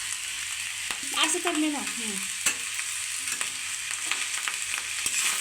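Fried rice being stir-fried with soy sauce in a pan gives a close crackling sizzle with scraping spatula strokes and a few clacks, and a brief spoken phrase comes in partway through.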